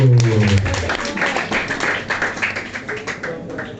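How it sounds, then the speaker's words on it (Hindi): A club audience applauding to welcome Vikram Rathore, scattered clapping that starts under a brief voice and then settles into uneven, moderately loud rhythmic claps. "तालियों की गूंज कम है जितना बड़ा नाम है विक्रम राठौर।"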